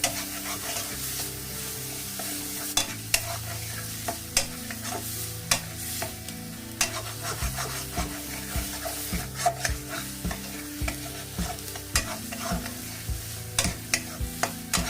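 Spinach being stirred in a wok over a high flame, a spatula scraping and clacking in a steady rhythm against a constant close sizzle, with no voices.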